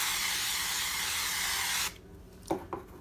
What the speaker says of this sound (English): I'm going to spray my pan.